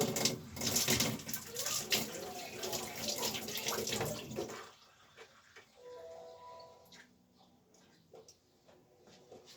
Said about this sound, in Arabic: هنحط ميه دافيه بقى